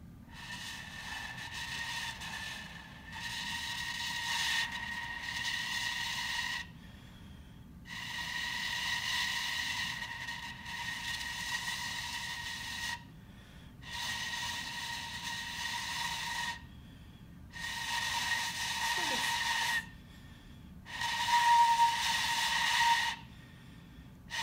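Shinobue, a Japanese bamboo flute, played by a beginner in a series of breathy, airy sustained notes separated by short silences, moderately faint and close with steady hiss.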